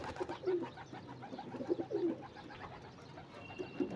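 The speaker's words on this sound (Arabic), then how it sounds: "حمامنا يا جماعه اهوت" Pigeons coo in a loft with soft, repeated throaty calls from several birds overlapping close by, over a low background hum.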